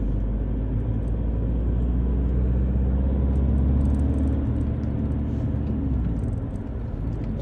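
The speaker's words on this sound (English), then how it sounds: "So we are driving around the streets of Paris." A car drives through the streets of Paris, heard from inside as a steady low engine and road rumble, continuous and fairly loud, with faint higher hiss above.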